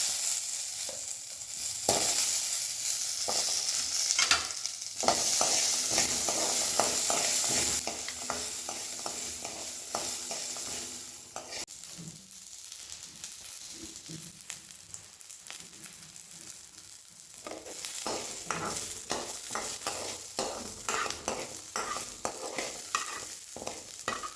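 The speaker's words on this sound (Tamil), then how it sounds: "வெங்காயம் வந்து நல்லா வதங்கிருச்சு" Small onions (shallots) sauté in a pan with fried urad dal for a chutney, a continuous oily sizzle with frequent spoon scrapes and stirring knocks, louder at first and then settling to a softer, steady fry.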